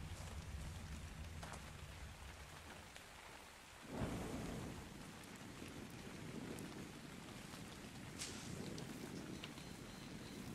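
Steady heavy rain hisses in ARK Survival Evolved, broken by a sudden loud thunder crack midway that rumbles on beneath the downpour, with no voices.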